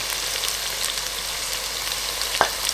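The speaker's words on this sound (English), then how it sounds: "once the ginger garlic is fried up like that" Ginger and garlic fry in hot oil with a steady, close crackling sizzle and a single brief knock of a utensil near the end.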